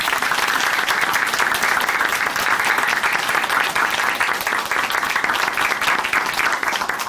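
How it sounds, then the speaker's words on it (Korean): A studio audience at a Christian testimony show claps in a dense, steady ovation, loud and continuous with no break. "다시 한번 응원의 박수로 보내드리겠습니다"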